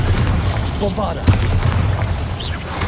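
A Bombarda spell detonates in Hogwarts Legacy with a sharp boom partway through, set amid a constant low rumble of battle noise while a voice talks over it.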